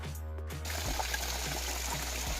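Rainwater trickling and dribbling after heavy rain, a steady close, low watery flow with a faint background wash, heard alone with no talk.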